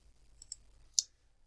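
A few sharp mouse clicks on a computer while opening a notification in Microsoft Teams: two faint quick clicks, then one louder crisp click, in a quiet room.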